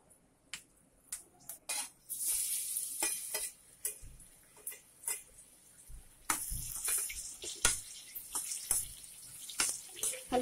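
Fenugreek seeds and raw mango slices frying in hot oil, with a bright hissing sizzle swelling as ingredients drop in, punctuated by spoon knocks and stirring clatter, close and fairly quiet.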